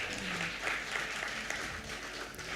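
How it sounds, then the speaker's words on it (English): Audience applause at a National Coaches Day awards ceremony for Jamaican track and field, a steady, dense clapping that fills the room at even loudness without pause. "A round of applause in his absence."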